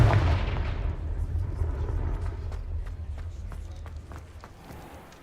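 Confringo spell blasts in the Hogwarts Legacy video game land as a string of sharp explosive bangs over rumbling battle noise, with quick footsteps and scattered impacts fading toward quieter sharp hits.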